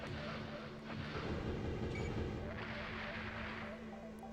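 A plasma cannon fires inside hallways in an Armored Core video game, giving a steady, rumbling roar with a low hum that holds for several seconds at moderate loudness.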